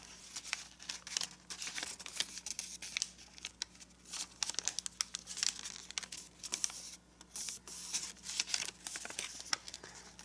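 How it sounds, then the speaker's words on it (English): Paper is creased and folded for an origami marble run, close crinkling and crisp pleating rustles in irregular bursts with brief pauses. "make the pleat here and fold the flap up so the valley fold goes between this point and this point."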